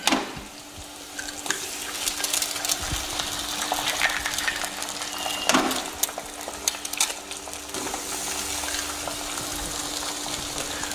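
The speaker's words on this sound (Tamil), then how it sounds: "இந்த 4 eggs-ஐ 4 முட்டையை இதில் உடச்சி ஊற்றி செய்ய போகிறோம்" Eggs are cracked into a frying pan with beans and fry in a soft, steady sizzle, with a few faint clinks and taps over the continuous crackle.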